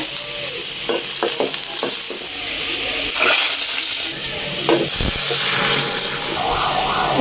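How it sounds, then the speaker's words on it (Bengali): Spices sizzling hard in hot oil while tempering dal, a loud continuous hiss and crackle with stirring clatter and bursts of spluttering, no talk. "তবে এখানে ডালটা বাগার দিয়ে নিব এখন"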